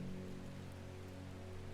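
Rain falls steadily in the England-like setting of the video game Strange Horticulture, a soft continuous patter under a sustained low ambient hum, quiet and even with no voices.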